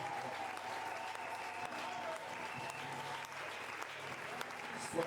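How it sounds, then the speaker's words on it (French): A church congregation applauds at a low, distant level, with steady clapping mixed with murmuring voices throughout. "J'aimerais qu'on acclame le Seigneur pour sa vie."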